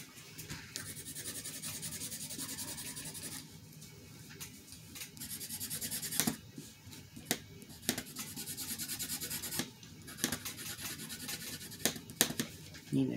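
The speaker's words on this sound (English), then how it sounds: "need to sharpen that one too." A pencil being sharpened by hand, a faint repeated rasping, rubbing scrape in bursts of several seconds separated by short pauses, quiet and close with no talk.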